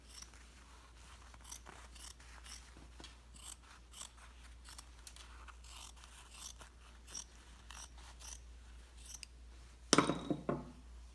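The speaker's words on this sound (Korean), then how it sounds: "한 2cm 정도 이제 공간 여유분을 두고 요렇게 잘라 주세요" Scissors snip through fabric while a carnation brooch is made in French embroidery, with a circle cut out leaving about 2 cm of margin. Small, quiet, repeated clicks and crunches run throughout, with a slightly louder cluster of cuts near the end.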